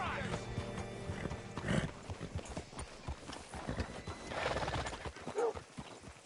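Horse hooves clip-clop in Red Dead Redemption 2 with a loud whinny cutting in, irregular steps close by while someone speaks over them.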